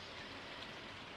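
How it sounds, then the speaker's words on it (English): Rain falling in the video game Stardew Valley, a soft, even hiss of drops pattering on surfaces, faint and continuous with no voices. "The rain doesn't stop me from getting a job done."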